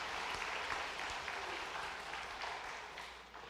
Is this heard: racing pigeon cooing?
no